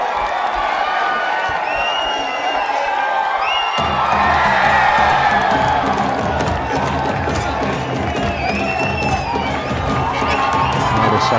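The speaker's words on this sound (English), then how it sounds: "The crowd is cheering for the Virudhunagar team, hoping for them, rooting for them to climb up the scoreboard." Crowd at an Isha Gramotsavam final match cheering for the Virudhunagar team, loud sustained roaring with children shouting and whoops, swelling louder partway through and carrying on to the end.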